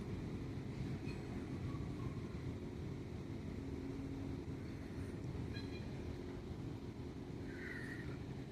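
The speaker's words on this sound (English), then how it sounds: "That was Susqanna 3018 pulling cars to their main lot." Susquehanna engine #3018 switching a string of grain cars in a Binghamton, NY rail yard, a steady low rumble of rolling cars and engine drone with faint squeals and clanks, heard from nearby without talk.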